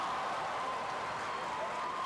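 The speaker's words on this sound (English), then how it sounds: "look at the East Brunswick crowd. Standing ovation for the Bears." A high school sports crowd gives a standing ovation, with steady, distant-sounding applause and cheering that stays faint and even throughout, with no voices standing out.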